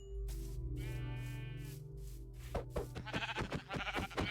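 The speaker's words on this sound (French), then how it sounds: "Ah, il y a des moutons." Several Minecraft sheep bleat one after another over a low steady hum, the bleats wavering and fairly close, followed by a rapid run of clattering game sounds.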